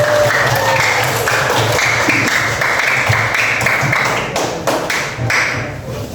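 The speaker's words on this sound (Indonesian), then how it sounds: "kasih tepuk tangan dulu untuk temannya." Classroom of students clapping for a classmate during a civics lesson, steady dense applause filling the room for about six seconds with some desk tapping and faint voices mixed in.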